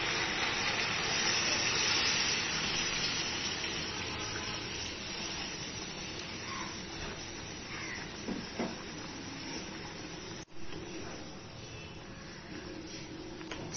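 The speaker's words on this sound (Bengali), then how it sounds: "এবার আমি গরম জল এর মধ্যে দিয়ে দিচ্ছি" Hot water poured into black pepper chicken cooking in a pot sets off a steady, broad steaming hiss that fades gradually, with a few faint clinks near the end and no voices.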